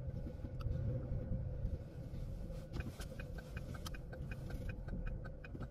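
A car rolls slowly around a campground loop at Red Rock Canyon State Park, a low steady rumble inside the vehicle with light repeated ticking clicks over it, quiet and continuous.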